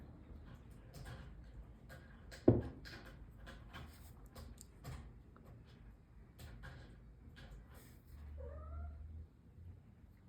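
A cat sneezes sharply once, followed by soft scattered ticks and a brief faint meow-like cry near the end.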